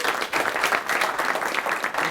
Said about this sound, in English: If you guys could give a big round of applause for Mr. Kevin Neff.